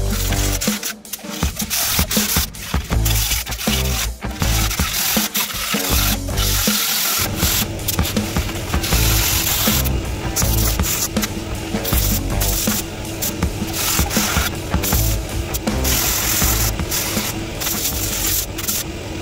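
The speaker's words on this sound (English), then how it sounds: "hit the top of that thing with the angle grinder" Angle grinder working across the top of a race truck's dash, a loud, continuous broadband grind with shifting pitch and brief dips in pressure, running steadily for the whole stretch with no talk.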